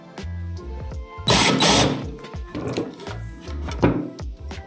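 A countersink bit cutting small notches for screws into an old fibreglass sled, heard as short whirring drill bursts with grinding, scraping bites between pauses, loud and close, including one longer, harsher cut.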